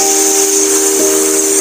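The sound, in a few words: voice imitating a hissing sound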